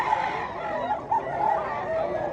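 A young stag rooster at a rural chicken expo and auction in Cebu gives short clucking calls, moderately close, amid the crowded background noise of the sale.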